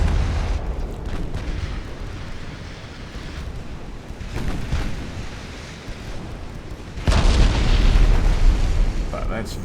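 Naval gunfire in a US campaign warship game, with deep booms and rumbling shell impacts rolling under a steady windy roar, the loudest blast near the end, and someone talking over it.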